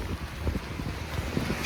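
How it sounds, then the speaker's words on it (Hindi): Strong gusting wind roars through snow and rain outdoors, a loud, steady buffeting with low rumbling pushes against the microphone and no voices. "इतनी तेज़ हवा चल रही है"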